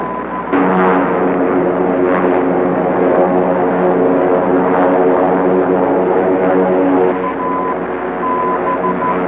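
A propeller airplane flown by a reckless pilot drones loudly and steadily throughout, a thick continuous engine hum on an old film soundtrack, with no voices.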